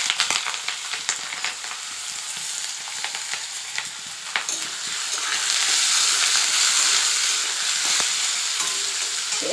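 Potatoes fry in hot oil, giving a dense, steady sizzle that swells louder partway through, with scattered stirring clicks and no voices.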